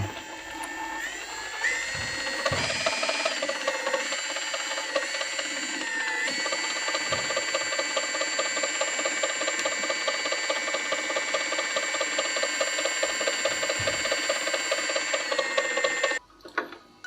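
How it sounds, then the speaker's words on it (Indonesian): Planetary e-bike hub motor, a Himo or Lankeleisi type, spins on the bench with a steady whirring gear whine and fine ratcheting texture for about fifteen seconds, then stops abruptly. "motor bisa berputar normal."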